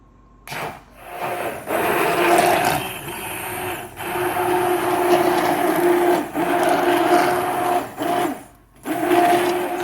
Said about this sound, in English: I have an immersion blender, so I'm going to blend this up before I heat it up.